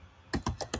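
Four crisp keystrokes on a computer keyboard, close and evenly spaced after a brief quiet start, with no voice over them.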